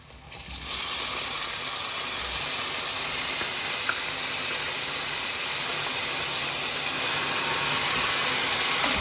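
Tomatoes tumble into garlic and onion sautéing in a pan for ginisang upo, setting off a loud, steady sizzle and hiss that runs unbroken and close throughout.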